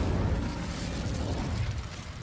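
An Incendio fire spell is cast in Hogwarts Legacy, a steady roaring whoosh of flame and crackling bursts. It holds at an even, fairly loud level throughout with no talking.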